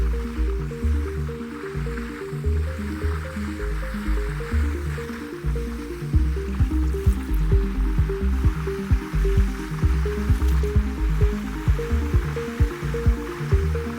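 Seawater flowing in and covering a sea anemone, with soft squishing, dripping and gurgling in a steady close wash that keeps going throughout, no voices.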